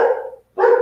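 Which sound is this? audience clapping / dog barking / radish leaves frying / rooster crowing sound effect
dog barking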